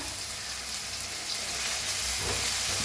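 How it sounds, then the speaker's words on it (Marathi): Curry leaves and asafoetida sizzling in hot oil, a steady, loud crackling fry that continues throughout without pause. "थोडस हिंग आता भाजून घेऊया आता टाकूया कढीपत्ता"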